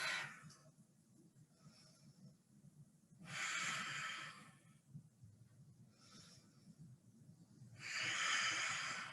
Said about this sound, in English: Settle in for 3 breaths.